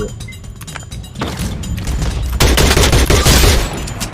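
Video game gunfire crackles in rapid bursts. Scattered shots build into a dense, heavy barrage of close, loud firing.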